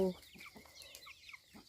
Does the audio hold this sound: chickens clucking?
yes